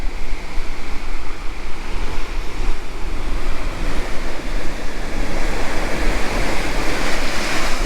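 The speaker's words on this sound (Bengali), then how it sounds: "এখানে কিন্তু সমুদ্রের গর্জনটা কিন্তু শুনতে অভূতপূর্ব লাগছে" Sea waves roar continuously at Golden Beach in Puri, a loud, dense surf rumble mixed with gusting wind noise on the microphone, with no voices.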